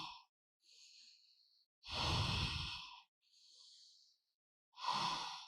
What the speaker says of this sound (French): Vos respirations sont longues et profondes.